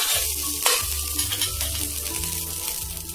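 Kutchi dabeli heated on a buttered pan: a close, continuous sizzle with stirring and scraping, plus one sharp clank early on, and no voices.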